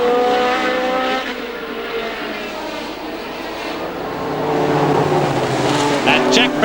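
Formula One racing cars at the 1970 British Grand Prix roar past, a dense, fairly loud engine wail that fades slightly mid-way, then swells again as another car closes in.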